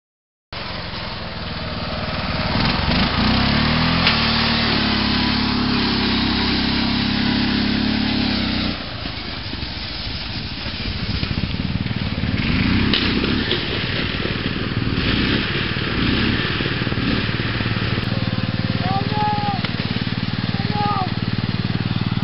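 A racing lawn mower engine runs steadily and loudly close by, its pitch shifting partway through as it revs, with faint voices heard under the engine noise.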